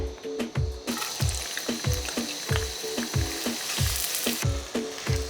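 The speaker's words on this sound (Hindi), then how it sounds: "5 टेबलस्पून हमने यहाँ पे ऑयल डालना है। इसके अंदर आपने अब डाल देने हैं अनियन।" Onions fry in about five tablespoons of oil with a bright, constant crackle and a regular, heavy thump of stirring every half second or so, close and loud.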